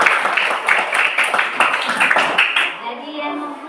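A classroom of students claps together. The steady, busy applause lasts a few seconds and then stops, leaving a quiet room.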